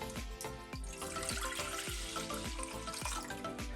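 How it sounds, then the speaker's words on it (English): Sugarcane juice is poured from a container into a clean saucepan on a hob, making a steady splashing, gurgling pour with rhythmic glugs close by and no talk. "I'm going to pour all the juice in here"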